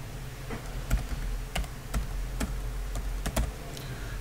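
Computer keyboard typing during a lecture, a dozen or so crisp separate key taps at an uneven pace over a low steady hum, close and fairly quiet, no voice.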